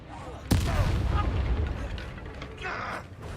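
Explosive spell blasts of Confringo and Bombarda in a Harry Potter-style wizard combat game: a sharp loud boom at the start, then a rumbling barrage of impacts and crackles continuing throughout, with a voice mixed in.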